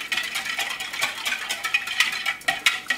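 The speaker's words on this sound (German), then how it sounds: "Jetzt wird das Ganze nochmal verrührt." A whisk or spoon stirs an egg, milk and salt mixture in a bowl for French toast, making quick, close, rhythmic clinks and scrapes against the bowl.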